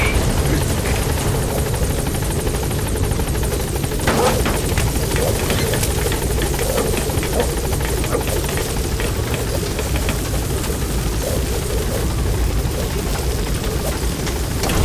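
Helicopter arriving at a landing zone in Metal Gear Solid V, a loud, continuous rotor thrum and engine roar that holds steady throughout.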